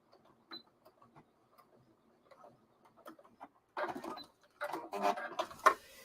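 A sewing machine stitches along a seam toward a corner, first in faint, sparse ticking needle strokes, then in louder, denser runs of rapid mechanical clatter near the end.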